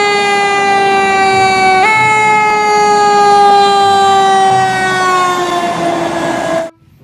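Loud, close electronic siren from a toy fire truck, a steady, bright, buzzy wail that drifts slightly lower in pitch before cutting off abruptly near the end.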